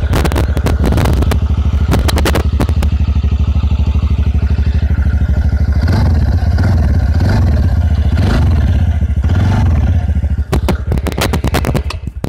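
A TVS Ntorq scooter in its Black Panther Edition idles loud and close after starting, its exhaust giving a steady low throb with brief clattering revs near the beginning and end.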